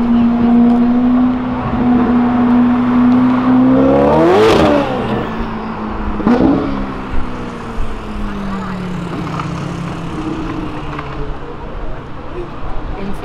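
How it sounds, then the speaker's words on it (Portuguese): A Ferrari on a quiet street gives a loud engine rev that rises and sweeps past, leaving a fading drone. Traffic noise and voices sit in the background. "Ó a Ferrari."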